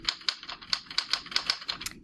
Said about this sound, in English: this is the sound that a typewriter would make when you were typing on one